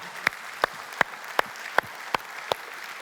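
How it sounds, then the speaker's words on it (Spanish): Congregation clapping at a church service, heard as a steady beat of sharp, evenly spaced claps, about seven in three seconds, fairly close over a quiet background. "Darle un fuerte aplauso al Señor."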